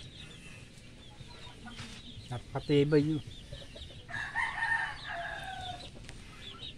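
A rooster crows nearby, followed by chickens clucking, over a low rumbling background with a brief spoken remark.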